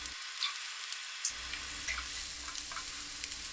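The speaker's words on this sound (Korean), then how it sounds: "버터에 마늘을 볶아요" Garlic sautés in melted butter over medium heat for a milk-based cream pasta, making a soft, steady sizzle dotted with faint little crackles, quiet and close.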